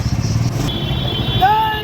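Motorcycles idle and rumble as riders set off on a Shivjayanti 2023 bike rally, a steady low engine drone close by, with a horn-like tone and people talking over it.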